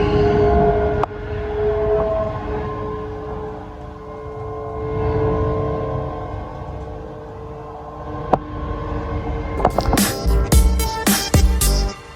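A train rumbles and hums steadily nearby at Springburn station in Glasgow, with a long tonal drone, then a burst of clattering, banging wheel and carriage noises toward the end.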